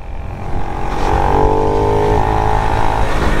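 A Honda Pop 110 motorcycle running with no airbox filter and a reversed intake hose, a steady close engine drone that rises slightly in pitch midway and holds, with no talk.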